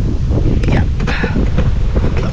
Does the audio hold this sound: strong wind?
yes